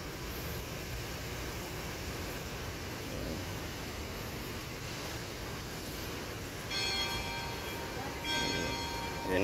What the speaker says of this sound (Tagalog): naririnig nyo makakalembang na yung bell